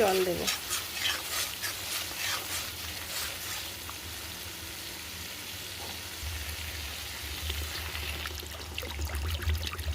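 Masala spice paste fries in oil for a pabda fish curry while a spoon stirs it, scraping the pan in rhythmic strokes over a constant bubbling sizzle.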